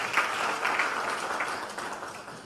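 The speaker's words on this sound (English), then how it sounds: "Can we give him a round of applause?" Audience applause at a press conference in Freetown, Sierra Leone, a steady wash of many hands clapping from a crowd, fairly faint and fading slightly over a couple of seconds with no voices.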